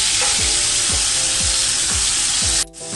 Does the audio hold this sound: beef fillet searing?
yes